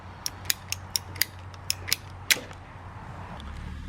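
A PVC air-conditioner drain line is cut to size with a ratcheting cutter, giving a series of sharp, close clicks at an uneven rhythm over a quiet, faintly humming background.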